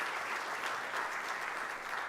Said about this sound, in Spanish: Quiero que le den un fuerte aplauso.